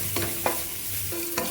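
Onions sautéing with salt in a pan for tomato chutney give a steady close sizzle, broken by a couple of quick spatula scrapes and stirs.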